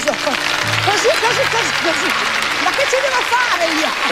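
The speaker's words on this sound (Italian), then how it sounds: "Vuole un altro applauso, così." Circus audience applauding an elephant act with Whisky the elephant. The steady clapping runs under a person talking loudly over it throughout.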